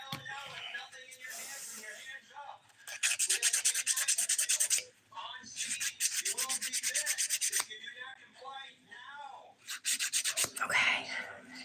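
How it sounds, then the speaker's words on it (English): A 180 grit nail file rasps across fingernails in quick back-and-forth strokes, close and soft, coming in several bursts with brief pauses and a quiet voice talking in between. "So a little filing with a 180 grit file."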